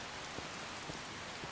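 Heavy rain in the video game Skyrim, a steady hiss of downpour with a few soft drop patters, moderately quiet and continuous throughout.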